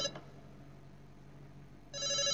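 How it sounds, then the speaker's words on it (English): A telephone rings for an incoming call, with a short ring burst at the very start and a louder electronic ring returning near the end after a quiet stretch of low background hiss. "I've got another phone call."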